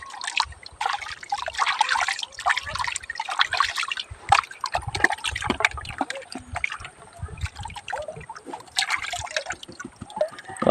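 River water trickles and splashes during gold panning in a river, a close, irregular gurgling and dribbling with intermittent splashes and no voices.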